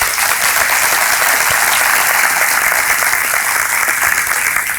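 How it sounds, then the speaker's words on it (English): A chamber of commerce breakfast crowd gives elected officials a round of applause, loud, dense and sustained clapping filling the room with no talking. "If we could give them a round of applause"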